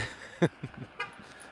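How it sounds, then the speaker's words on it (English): A Tesla's car horn honks in a short burst, a single brief toot standing out over faint traffic and background noise, with a couple of softer follow-up sounds. "that dude in a Tesla was honking at me"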